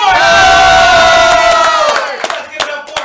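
A loud crowd at a live game show shouts and cheers for a contestant eating a jelly bean, a sustained roar of voices with whoops that fades into scattered shouts near the end.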